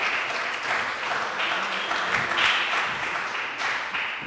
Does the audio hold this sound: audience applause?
yes